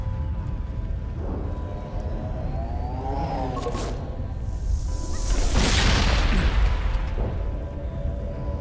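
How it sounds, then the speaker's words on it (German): Grenades explode in the Mass Effect video game, heard as heavy booming bursts and a long, rumbling blast that swells under continuous dense combat noise and sweeping effects. "Einfach mit Granaten um sich werfen"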